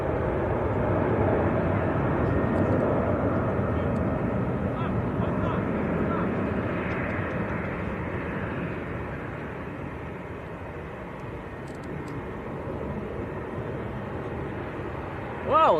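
An airliner making a steep climb out after takeoff from Manchester Airport, a broad, steady jet roar that stays loud before easing slightly, with voices talking over it.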